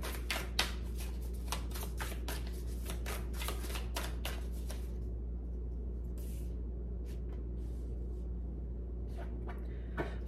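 Rapid, crisp riffling bursts of tarot cards being shuffled, dense at first then sparser, over a low steady background hum.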